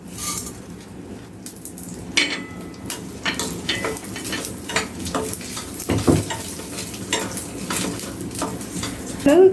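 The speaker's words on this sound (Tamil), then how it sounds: "முதல்ல இந்த இல்பச்சட்டியில் எல்லாத்தையும் போட்டு வறுத்துக்கலாம்" Chillies, asafoetida and spices roast in a pan with a soft, intermittent sizzle and repeated scraping, clinking strokes of a spoon against the metal, fairly quiet and close, with no talking.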